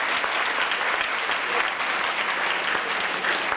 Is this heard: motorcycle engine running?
no